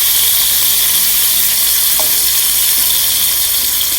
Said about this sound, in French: Et retourner bien sûr pendant la cuisson.